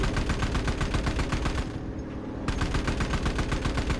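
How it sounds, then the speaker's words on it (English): Sustained rapid gunfire in the Enlisted video game, aimed at an enemy aircraft, a loud dense automatic burst that briefly drops out in the middle before resuming at full intensity. "I'm gonna go shoot him down"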